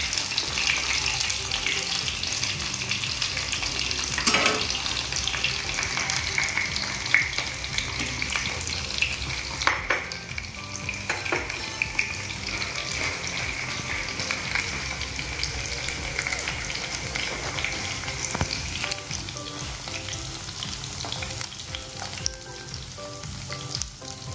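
Belfoods Royal Golden fillet nuggets crackle in hot oil on a low flame, a continuous close sizzle with occasional sharp pops and stirring clicks, softening slightly toward the end, with no talking.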